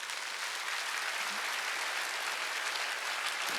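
A church congregation at a Sunday worship service applauds in a steady, dense wash of clapping that holds evenly throughout, with no voices on top.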